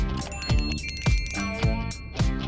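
A notification bell sound effect rings in bright, repeating chimes about twice a second, loud and clear with nothing else behind it.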